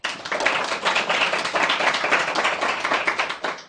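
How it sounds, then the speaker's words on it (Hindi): Classroom clapping congratulating a student who scored well in the NEET medical entrance exam. A group of hands claps densely and continuously, loud and close, with no talk over it. "ठीक है तो बहुत बहुत बधाई, ठीक है, तालियां।"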